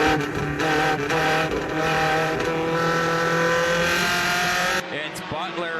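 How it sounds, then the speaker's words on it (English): Mini stock division race cars roar around the oval at Delaware in a loud, sustained pack, engines droning and tires squealing, with a sharp drop near the end as the cars pull away. "We're racing in the mini stock division."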